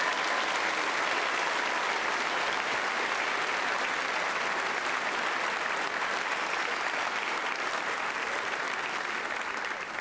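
Loud, sustained applause from a large audience at a middle school eighth grade celebration honoring achievement award winners, a dense, unbroken wash of clapping lasting throughout.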